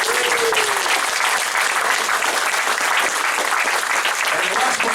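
An audience at the Vengeance 2017 event claps loudly and steadily for the whole stretch, a dense, close wall of applause with a voice faintly audible beneath it.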